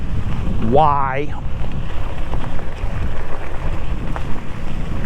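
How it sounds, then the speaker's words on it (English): Wind roars into the microphone during an e-bike ride, a steady, close rumbling buffet throughout, with a short voiced sound near the start. "Boy, that wind is blowing through here."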